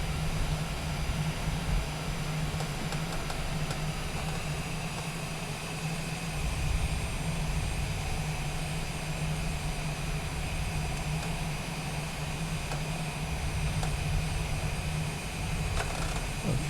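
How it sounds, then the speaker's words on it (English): Cessna Citation Longitude business jet engines running in Microsoft Flight Simulator 2020, a steady continuous whine and hum with a low drone, held at an even level throughout with no talking. "APU's running, we'll just shut the engines"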